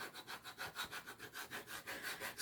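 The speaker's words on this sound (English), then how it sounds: "So all you need to do is just go over it and just scrape it" Rhythmic scraping of a tool over dried, hardened chalk paste on a reusable surface, quiet back-and-forth strokes repeating about five times a second, close and alone.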